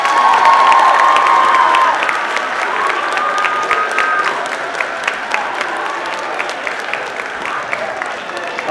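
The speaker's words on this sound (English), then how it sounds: "Let's give them one more round of applause." High school students in an auditorium give guest speakers a loud round of applause, steady clapping mixed with cheers and shouts, with individual claps standing out as it continues.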